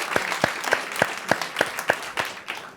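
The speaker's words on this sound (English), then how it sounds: "give yourself a round of applause if you voted at all in the New York City public advocate election last month" Studio audience at a live New York City radio show breaking into applause, sparse and uneven with distinct individual claps in a loose rhythm, moderately close and unaccompanied by speech.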